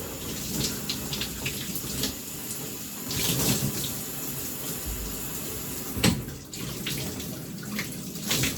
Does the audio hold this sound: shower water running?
yes